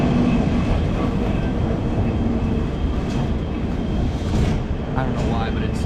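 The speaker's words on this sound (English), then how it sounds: "I love riding these trains." Passenger train in Lisbon riding along with a steady, loud rumble and rattling wheel noise throughout, faint brief voices over the onboard din.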